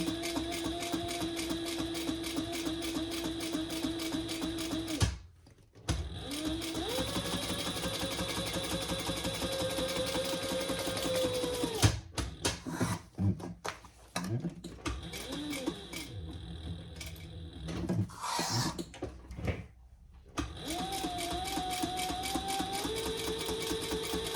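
A sewing machine runs steadily while stitching another row on a bag, loud and close. It stops twice for brief pauses, and there is a stretch of uneven handling noise before it resumes running.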